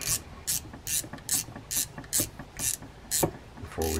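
An adjuster nut is tightened on an Okuma Salina 80 baitfeeder fishing reel, producing a regular series of sharp ratcheting clicks. There are about nine close, crisp clicks at an even pace.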